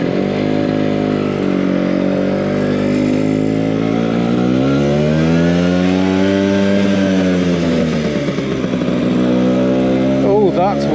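Engine of a 20-year-old Vespa PX125 scooter on a road test ride, a steady mid-pitched drone that rises and falls in pitch as the revs change, continuous and close throughout.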